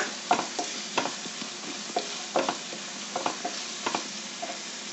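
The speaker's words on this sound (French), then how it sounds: "je vais prendre une petite feuille de laurier et de l'ail haché aussi. On fait revenir." Bay leaf and minced garlic fry in a pan with a soft, steady sizzle, broken by light scraping stirs and taps of a utensil.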